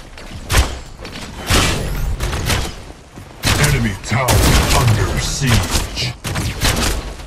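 Tower destruction in the video game Predecessor, a dense run of loud booming impacts and crashing blasts that rise and fall across the span, with game voices mixed in.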